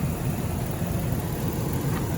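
A 2020 Chevrolet Express G2500 rear-wheel-drive conversion van with a 6-liter V8 idles nearby, a steady, even low rumble with no revving and no voices.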